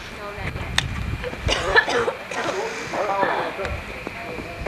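Several short coughs and throat clearings break out amid murmured talking in a room, scattered and fairly close.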